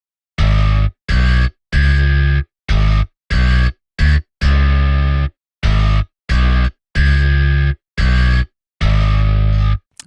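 Distorted electric bass notes from the SubMission Audio GrooveBass plugin, played as a string of separate plucked notes and short phrases with silent gaps between them, loud and alone.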